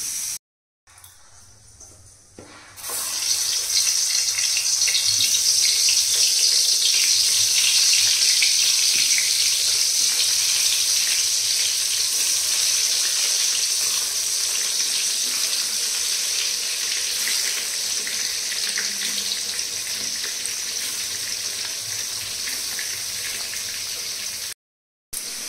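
Brinjal (eggplant) slices frying in hot oil in a pan, a loud steady sizzle and crackle that starts abruptly after a quiet moment and continues without talk.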